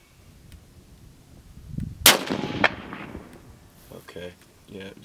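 A single sharp crack from a Savage 110 bolt-action rifle in .308 firing 168-grain Federal Gold Medal Match on a calm outdoor range, loud and close, followed by a short rolling echo and quiet ambience.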